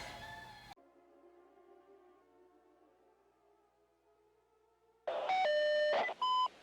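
Electronic phone tones on a call, with a short burst at the start, a long quiet steady tone, then loud repeating beeps near the end.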